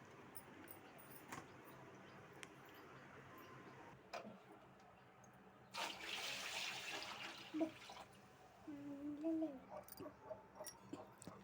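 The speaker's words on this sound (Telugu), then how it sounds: "నీళ్ళు నిండా పోయాలి కదా?" Water is poured to fill a container for a fish, a soft splashing trickle that starts midway and swells in short gurgling bursts, with faint ticking and room noise around it.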